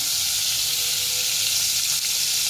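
Hot oil and butter sizzle in a pressure cooker for pav bhaji, a loud, steady frying hiss that runs unbroken from start to finish.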